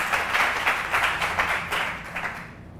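Audience applause for a candidate at a Côte d'Ivoire youth speaking contest quarter-final, a steady burst of clapping from a seated crowd that swells in pulses and thins out toward the end.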